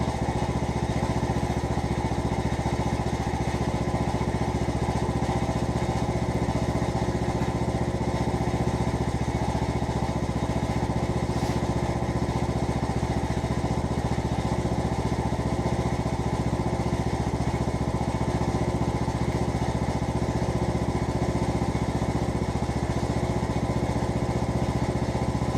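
A John Deere riding lawn mower runs steadily just after a cold start on a cold day, its engine droning loud and constant close by with no pauses.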